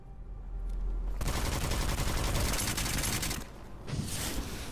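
Sustained burst of heavy gunfire in the first-person shooter Witchfire, loud and dense for a few seconds, briefly dipping before another shot, with no talking.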